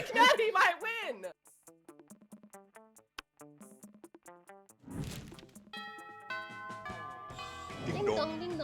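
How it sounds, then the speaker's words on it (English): A two-tone ding-dong doorbell chime from the Monster Prom video game rings over game music, with people talking loudly at the start and a crash and bright chiming tones later. "Ding dong. Ding dong. I love that ding dong."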